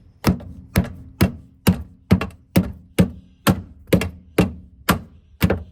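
Steady pounding on a part while fixing a rubbing tire: about a dozen hard, evenly spaced thuds roughly every half second, loud and close, each with a short ringing tail and no talk over them.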